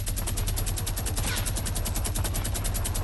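Fortnite gunfire, a loud, close, fast automatic burst with evenly spaced shots that runs without a break, with no talk over it.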